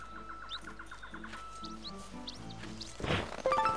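Repeated chirpy bird calls from rare blue birds in The Legend of Zelda: Skyward Sword, a run of short evenly spaced tweets followed by a few higher notes, with game music beneath and a louder rustling burst near the end.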